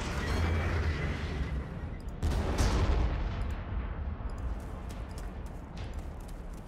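A Basilisk artillery piece fires in a Warhammer 40,000: Armageddon battle, giving a heavy boom at about two seconds over a continuous loud rumble of battle noise.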